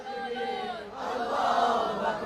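At a religious waz gathering in Chittagong, a lead voice calls out, then a large crowd answers with a loud, unified shout that swells and holds for over a second.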